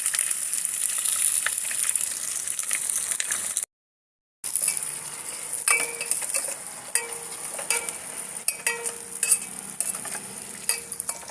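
Onion sautéing in a pan for a bachelor-style veg biryani, a steady sizzle with occasional stirring scrapes and clinks close up, broken by a brief moment of silence before the frying resumes.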